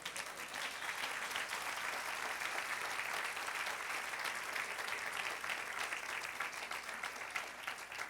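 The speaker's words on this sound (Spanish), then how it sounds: "Denle otro aplauso al Señor." A church congregation applauds during a sermon, continuous even clapping at a steady level from start to finish with no talk over it.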